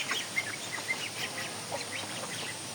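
Ducks on a small farm give repeated short, nasal quacks at moderate distance over a steady outdoor background hiss.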